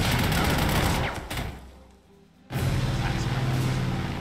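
Battle gunfire from the World War II strategy game Panzer Corps 2, loud dense rattling bursts that fade into a brief lull before erupting again at full intensity.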